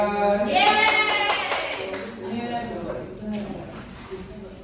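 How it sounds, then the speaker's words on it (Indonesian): A classroom of students claps for a presenter during a microteaching lesson, scattered clapping under a teacher's voice and overlapping talk, fading after the first couple of seconds. "Tepuk tangan buat Mbak Tika."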